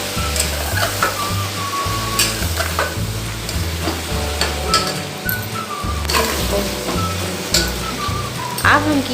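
Ginger-garlic paste sizzles steadily in a hot pan while it is stirred for a Mithila-style green bean and potato curry, with scraping and clinking of the spoon, continuous frying hiss and a low hum in the background.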